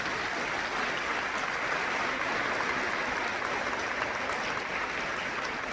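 A live audience applauds a musical duo at an art-history concert event, with dense, steady clapping that fills the hall evenly from start to finish.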